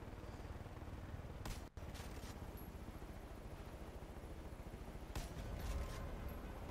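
Gunfire in Far Cry: New Dawn aimed at a vehicle driver on a roadside, a steady rattle of rapid shots over constant game noise, with a few sharper cracks standing out.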